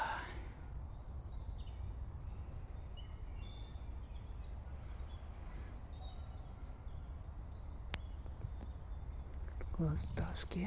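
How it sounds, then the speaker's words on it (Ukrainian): Several birds sing in a forest, with bright, repeated chirps and warbling phrases at a moderate distance over a low background rumble, plus faint nearby breathing or hushed human sounds near the end. "Клас пташки як."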